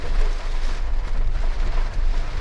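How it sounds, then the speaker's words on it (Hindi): Heavy rain driven by strong wind during a severe storm, a loud, dense roar of rainfall and gusting air with deep rumbling, steady and unbroken throughout with no voices. "तो इस वक्त बहुत तेज़ बारिश हो रही है"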